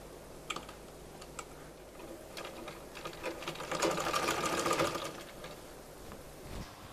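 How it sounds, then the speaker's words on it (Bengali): A sewing machine stitches the side seam of a six-panel petticoat, running in short bursts with ticking clicks before settling into a fuller, faster whir midway, quiet and close. "এই সাইড থেকে আমি সেলাইটা শুরু করব"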